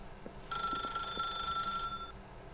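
A telephone rings in The Stanley Parable, one continuous bright electronic trill lasting over a second, clear and close against a quiet room.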